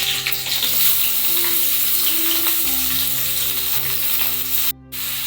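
Chopped onion sizzling and frying in hot oil with green chili, cumin and curry leaves in a pan, a steady close crackle with occasional stirring, a brief dip near the end, no talking.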